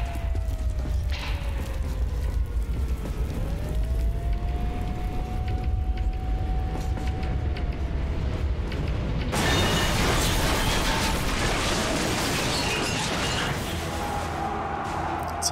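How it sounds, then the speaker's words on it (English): Train in Metro Last Light rumbling past, a continuous heavy mechanical roar with a long gliding whine, growing harsher and noisier partway through, loud and close. "It's a nice train you got there."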